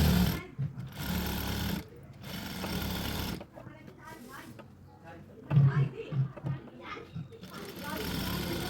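An electric sewing machine stitches fabric onto buckram in several steady whirring bursts, close and fairly loud, while someone talks in the pauses between runs.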